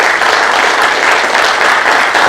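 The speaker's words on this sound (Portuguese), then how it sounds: "peço uma salva de palmas para ela." An audience bursts into loud, sustained clapping for a founder's granddaughter at a gathering, a dense even wash of applause throughout with no break.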